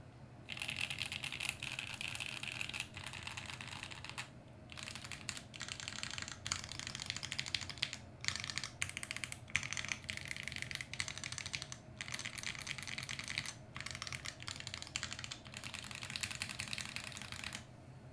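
Rapid clacking of a computer keyboard, typed in steady bursts with short pauses, close and fairly quiet against faint room hum, with no voices.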